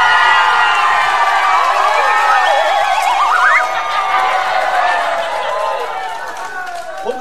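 Audience shrieks and cheers for Hia U during a comedy sitcom battle, a loud, dense wave of high screams and whoops that stays strong, then eases slightly near the end.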